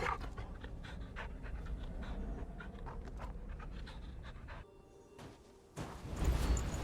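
A sled dog pants rapidly in the video game Fade to Silence, steady quick breaths close up, with a short quieter gap before the panting resumes louder at the end.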